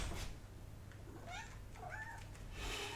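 A cat named Nala meows several times, faint and somewhat distant, with rising and falling cries over a low room hum and no talking.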